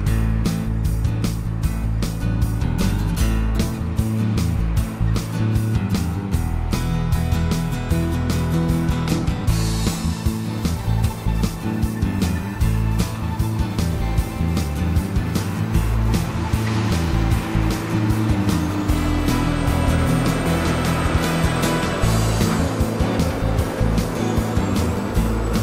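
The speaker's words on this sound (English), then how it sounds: "And there's one last creek crossing to get through." A road train truck drives through a creek crossing on the road to Weipa, giving a steady, loud, close engine drone that runs unbroken the whole time, with water sloshing mixed in.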